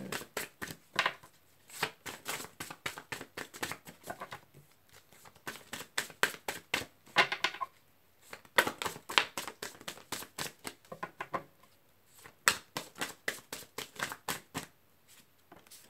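Tarot cards are shuffled over and over, rapid riffling bursts separated by short pauses, close and crisp with no talking.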